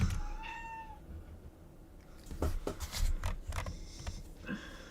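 A pet cat meows loudly and insistently indoors, a rising drawn-out call followed by a run of closer, harsher yowls, with no talking.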